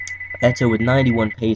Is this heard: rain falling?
no